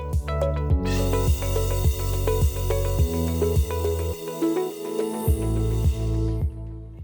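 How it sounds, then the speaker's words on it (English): Air hissing out of a water filter sample port valve, a loud close spray-like hiss with rhythmic pulsing bursts and underlying hum throughout, no speech. "You will hear the air coming out,"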